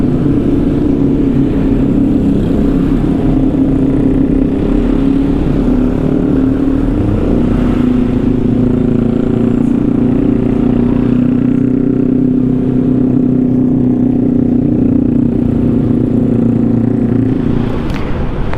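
Cars and motorcycles idle and creep along in a traffic jam on the Nagreg road, a loud steady engine drone close by with faint passing revs and no talking.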